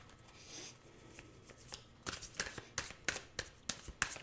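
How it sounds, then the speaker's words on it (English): Tarot cards being shuffled by hand, a dry papery riffle that grows into a run of crisp, close clicking bursts in quick irregular rhythm, heard alone without talk. "Let me shuffle for you here, Queen Bean."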